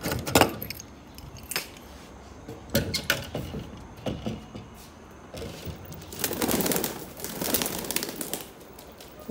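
Pigeons let out of their coop, with wing flaps, soft cooing and rustling close by, plus jangling metallic clatter from the coop, and no speech.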